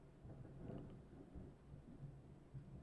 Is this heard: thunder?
yes